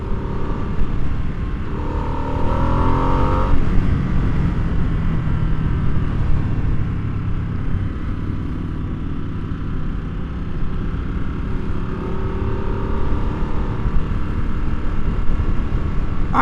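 A 2022 Harley-Davidson Nightster motorcycle engine while riding, a steady loud low rumble with wind roar and a couple of brief rising engine tones, no talk.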